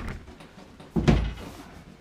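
A Gilbern Invader car door shuts with one solid, fairly close thunk, preceded by faint handling noises and followed by a short fading rumble.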